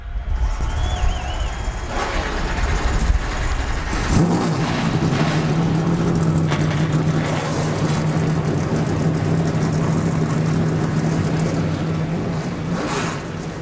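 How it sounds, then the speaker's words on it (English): Engines of NASCAR trucks fire up together before the 2012 Fred's 250, a loud dense roar that jumps in level about four seconds in and holds a steady rumbling idle with revs rising and falling, crowd noise underneath. "Drivers, start your engines."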